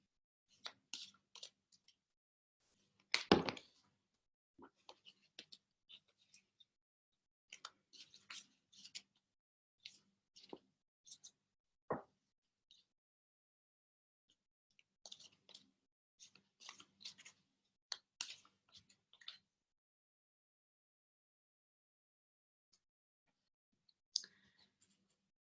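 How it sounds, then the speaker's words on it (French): Tarot cards being shuffled by hand in soft bursts of riffling clicks and rubs, starting and stopping in short irregular runs with a louder snap early on and quiet gaps between. "je brasse les cartes pour la prochaine"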